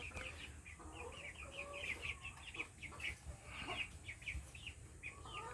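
A blue-feathered backyard hen clucks in a quick run of short repeated calls, close by over a low outdoor background.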